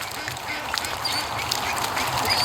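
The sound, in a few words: ducks quacking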